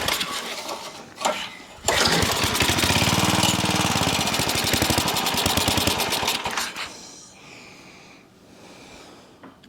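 Old Craftsman garden tiller engine cranked and briefly catching, a loud close chugging roar that sputters and fades out after several seconds without staying running, followed by quieter mechanical rattles.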